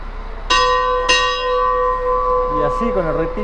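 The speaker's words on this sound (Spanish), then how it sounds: "Ahí va el guarda a hacer sonar la campana." A train guard rings the departure bell at a station in Bariloche: two strong clangs about half a second apart, followed by a long, sustained ringing tone as faint voices rise in the background.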